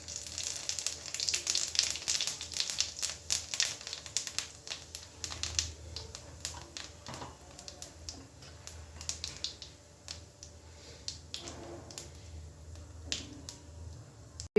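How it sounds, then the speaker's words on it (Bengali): Cumin seeds hit hot oil for tempering a country chicken curry cooked without onion or garlic, giving a steady close crackle and sizzle with sharp pops and spits throughout, louder at first and easing slightly. "এবার আমি ফোড়নে দিয়ে দেবো জিরে"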